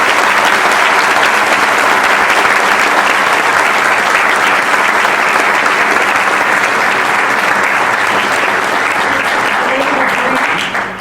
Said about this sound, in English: give all of our candidates a round of applause